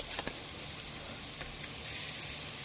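Octopus sizzles in butter with salt and pepper on an El Disco plow-disc cooker, a steady close frying hiss with a few sharper crackles and a brief louder burst near the end.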